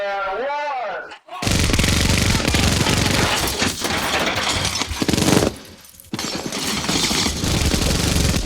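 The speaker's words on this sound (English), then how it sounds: "Another memorable moment, the shootout with police cars." Dense, sustained bursts of gunfire in the police-car shootout from Terminator 2: Judgment Day, loud and continuous, with a brief lull midway before the barrage resumes; faint voices are buried underneath.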